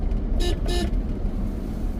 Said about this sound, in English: I could barely hear the damn horn myself.